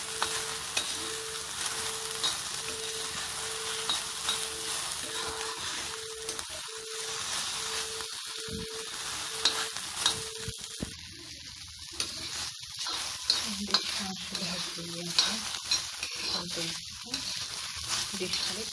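Bhendi (okra) fries in oil in a pan, giving a close, steady sizzle with scraping stir strokes and clinks, while a humming tone runs underneath for the first part.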